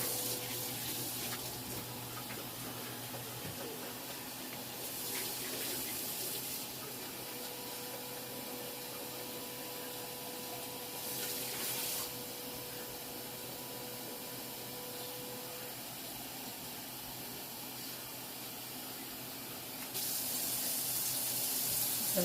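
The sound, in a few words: adding hot water from tap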